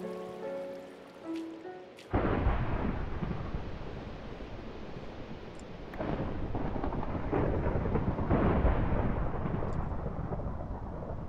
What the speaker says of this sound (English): that rain turned into a thunderstorm